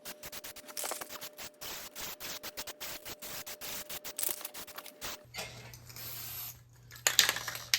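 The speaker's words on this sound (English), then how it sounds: "we'll throw some black paint at this and have it covered up. It's a armor coat." Aerosol spray paint, black armor coat, hisses onto a Ford Model T's rebuilt rear body in a series of short, close bursts, followed by a steadier hiss with a low hum underneath.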